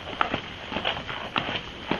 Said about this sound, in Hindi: उनसे कुछ फासले पर खेतों में किसी और के भी पैरों की आवाज है।